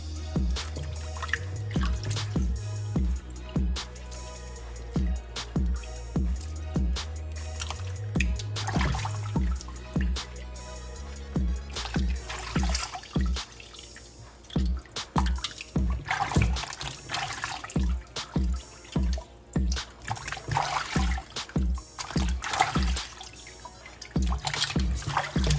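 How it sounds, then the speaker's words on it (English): Turkey wings being washed under running water for a Jamaican-style preparation, with steady dripping and trickling water and repeated wet splashes and handling sounds, close and fairly loud, no talking. "And just wash my turkey wings, guys, to make sure that they're cleaned and nice"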